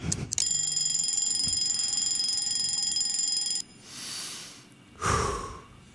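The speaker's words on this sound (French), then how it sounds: "Il est 6 heures, le réveil sonne." An alarm clock rings with a sustained high electronic tone for about three seconds, close and clear, then stops, followed by breathy snort-like sounds.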